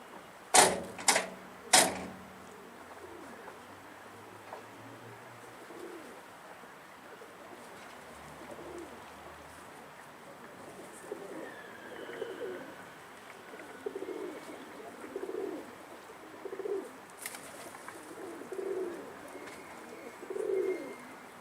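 Pigeons coo in soft, repeated low murmurs that grow more frequent toward the end, with a few sharp clattering knocks early on and quiet background sounds.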